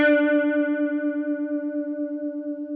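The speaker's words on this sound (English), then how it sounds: "That mixed with the dry signal creates what we think of as chorus." A single sustained guitar note through a Walrus Audio Julia analog chorus pedal, rich in harmonics with a steady wavering shimmer as the pitch and volume gently pulse throughout; no voices.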